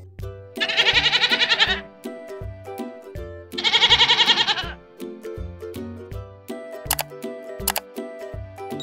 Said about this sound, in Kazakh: Бұл ешкі. Ешкі үй жануары.